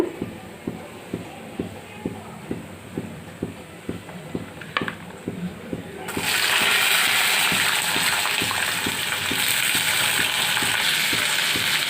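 Onion and garlic frying in a pan for a radish chutney: rhythmic utensil taps and stirring at first, then a sudden loud, steady hiss of sizzling oil once the onions and garlic go in.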